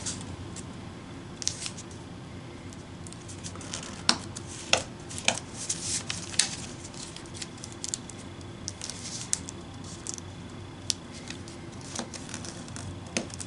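Paper is folded and creased into an origami fireworks model, a quiet continuous rustle punctuated by scattered sharp crisp crackles and ticks from pressing the folds, close up and with no talking.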